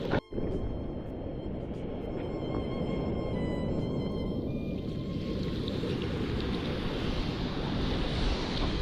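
Continuous low roar of ocean surf with wind buffeting the microphone, steady and fairly loud throughout, no voices.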